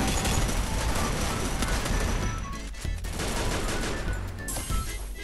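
Dense, rapid gunfire rattles continuously in loud bursts, heavy and compressed like game audio, in Free Fire.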